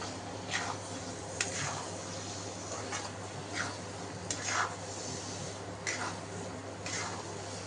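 Peas and paneer stirred into frying masala, with soft sizzling and repeated spoon scrapes and taps against the pan at irregular intervals, close up and without talking.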